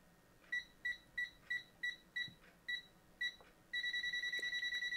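A handheld electrical tester switched to voltage-detector mode beeps near a live electrical source: a run of eight short, evenly spaced high electronic beeps, then a steady continuous tone, close and clear over a quiet background.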